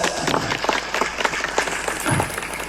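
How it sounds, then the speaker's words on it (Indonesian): Children clapping at a sixth-grade graduation ceremony at an Islamic boarding school, a lively, close, somewhat uneven burst of applause with a few louder individual claps sticking out. "Tepuk tangan anak-anak sekalian."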